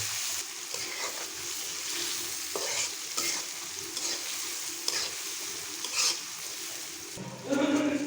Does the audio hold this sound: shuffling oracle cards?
no